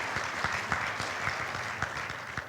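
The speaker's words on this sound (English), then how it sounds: "Let's give them a big round of applause." Applause from an awards ceremony audience, a dense, fairly faint patter of many hands with a few louder individual claps standing out, steady throughout.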